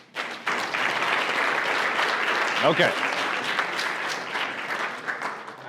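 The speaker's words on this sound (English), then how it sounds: "Round of applause." A workshop audience claps for a volunteer coming up to the front, steady applause filling the room for several seconds while a voice speaks briefly over it.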